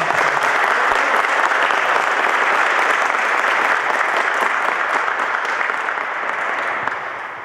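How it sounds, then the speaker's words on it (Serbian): Sustained, loud applause from an audience at a futsal cup tournament fills the space, dense and even throughout, tapering slightly at the end. "Želim da jednom aplauzom ga u čelu sa Sancom."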